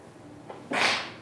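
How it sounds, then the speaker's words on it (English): A single sharp sneeze, allergy-driven, a faint intake followed by a sudden breathy burst, close and fairly loud against quiet room hiss. "I had to sneeze."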